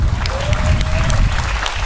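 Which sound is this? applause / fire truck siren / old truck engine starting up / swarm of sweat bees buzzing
applause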